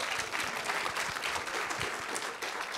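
A church congregation claps in praise during a worship service, a brief, even burst of many hands heard at moderate distance.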